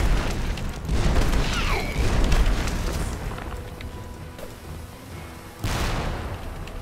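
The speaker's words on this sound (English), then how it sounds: "I see those cannonballs being shot at me from somewhere" Cannon fire in the Magicka video game: deep booms and blasts with rumbling low end, a couple of strong impacts early and another sharp blast near the end, over busy game noise.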